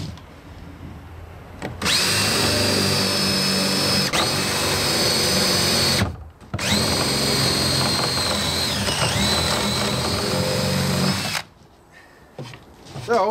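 A power drill bores a 3/4 inch hole through wood on a utility trailer. The motor whines loudly and steadily in two long runs with a short pause between them. Quieter handling noises follow the second run.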